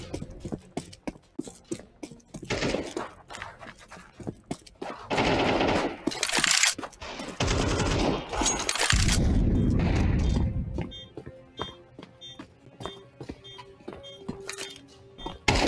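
A flashbang grenade thrown in a shooter video game after the bomb is planted: sharp bursts and a heavy low blast land amid rapid, repeated gunfire, with clicking mechanical sounds trailing off afterward.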